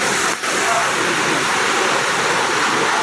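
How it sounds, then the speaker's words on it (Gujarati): A steady, loud rush of falling water fills the whole clip, a constant broadband roar from the nearby Alsigarh waterfall near Udaipur, with no pauses. "આ રીતે વહેતું પાણી તમને અહીં જોવા મળશે"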